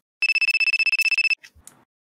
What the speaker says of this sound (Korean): 갑자기 전화가 오네.